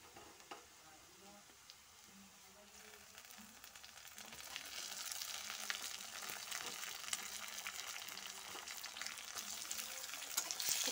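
Fried onions and chopped tomato sizzle in a pan for a chicken kosha, quiet at first, then a denser crackle with repeated stirring scrapes as the frying builds.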